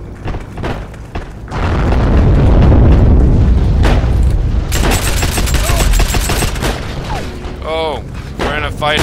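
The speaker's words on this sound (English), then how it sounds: "That's a bomb going around them." Loud booming bomb blasts and rolling gunfire in the multiplayer shooter Heroes and Generals, dense and continuous across the stretch, with sharper crackling shots later and a voice briefly heard.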